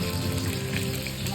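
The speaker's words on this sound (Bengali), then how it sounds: "এখন মাছ ভাজা করতেছে" Fish frying in a pan gives a steady, dense sizzle that holds at an even level throughout, with no talk over it.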